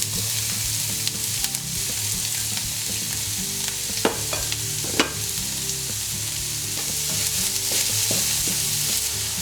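Chopped onion frying in oil in a pan, a dense steady sizzle close up with occasional spatula knocks and faint stirring, and no talking throughout.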